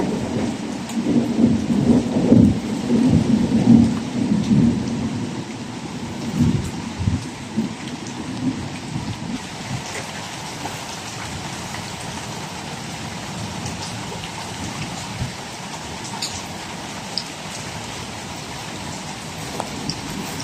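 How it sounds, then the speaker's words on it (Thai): Steady rain pours down with a dense hiss, while low thunder rumbles heavily at first and then eases, leaving the rain falling alone. "ฝนตกพอดีค่ะ"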